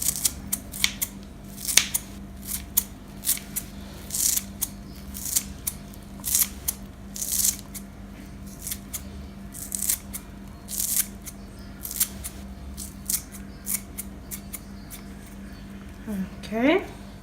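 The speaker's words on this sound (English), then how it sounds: "I have a bunch of parsley that I'm gonna chop it up with these scissors." Repeated crisp snips of scissors cutting parsley, a quick irregular series close by, with a steady low hum and brief speech underneath.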